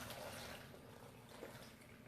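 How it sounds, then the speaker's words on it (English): Filtered water poured into a container, a short, soft continuous splashing trickle, faint and alone. "you're going to want to put water in there"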